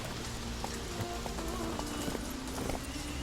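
Roach, a horse in the video game The Witcher 3, galloping with fast rhythmic hoofbeats over a dense, noisy background that sounds like rain, continuous and moderately close.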